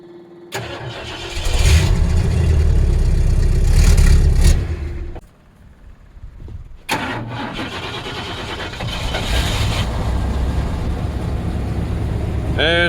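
A Ford fitted with a straight pipe exhaust cranks and fires into a loud, raw rumble, drops briefly, then restarts and settles into a steady, harsh idle close by.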